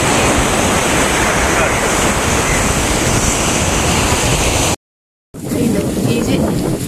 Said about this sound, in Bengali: ঢেউগুলো আসছে।